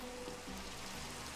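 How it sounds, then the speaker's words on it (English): Rain in Minecraft falls as a steady, even hiss, continuous and close, with no voices. "It's the first time it's raining for like legit."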